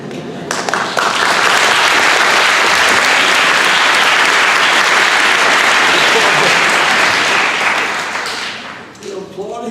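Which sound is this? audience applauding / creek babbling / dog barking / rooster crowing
audience applauding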